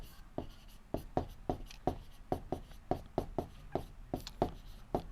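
Pen or chalk writing during a maths lesson, a quick run of sharp, evenly spaced strokes tapping and scratching close by, with no voice over them.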